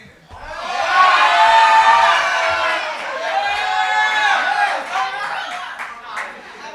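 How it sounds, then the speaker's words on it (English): An audience at a poetry event claps and cheers for a poet, a swell of clapping with whoops and excited voices that rises quickly, holds loud, then slowly tapers off. "Can y'all make some noise? Start clapping now."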